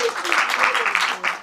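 An audience at a film screening Q&A for 너에게 가는 길 gives a brief burst of applause under a speaking voice.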